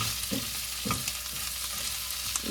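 Prepped meal reheating on a camper van stove, sizzling and frying steadily with occasional stirring scrapes; close and continuous, no voices.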